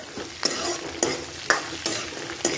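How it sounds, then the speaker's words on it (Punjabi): Green chillies roast with already-fried spices in a pan, cooked down like a chutney. A steady sizzle plays close by, broken by about five sharp scraping stirs at a fairly even pace. "ਹੁਣ ਇਸ ਵਿੱਚ ਹਰੀਆਂ ਮਿਰਚਾਂ ਐਡ ਕਰਾਂਗੇ ਇਸ ਨੂੰ ਚਟਨੀ ਦੀ ਤਰ੍ਹਾਂ ਭੁੰਨਾਂਗੇ ਆਪਾਂ"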